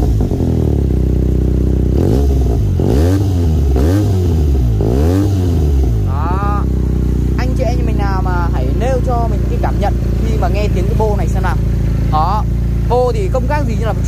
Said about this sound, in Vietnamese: Ở thì mình sẽ vào phần chi tiết nổ máy luôn mọi người nhá